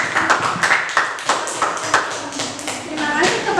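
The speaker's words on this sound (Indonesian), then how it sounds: "Beri tepuk tangan untuk Sofia." Audience clapping for a student at a classroom group presentation on obesity, a series of sharp, evenly spaced claps mixed with a voice talking over them.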